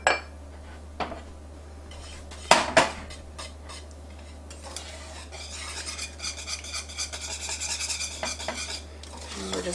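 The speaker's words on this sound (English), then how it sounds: "we're just going to whisk until it's smooth" Whisking a hot chocolate cream pie filling in a pot: a few sharp utensil knocks early on, then steady, fast scraping and swishing strokes against the metal that build through the second half, close and alone with no talk.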